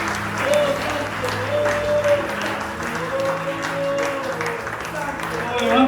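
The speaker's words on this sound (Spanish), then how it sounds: "En el nombre poderoso y santo de Jesús, dale un aplauso a la presencia del Señor." Church congregation clapping in praise during a Spanish-language worship service, steady dense applause running throughout with a voice speaking over it.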